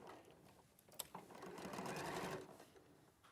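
A sewing machine stitches a quilt along a long straight edge, a soft close-up mechanical whirring that builds to a steady run and then stops, with a faint click.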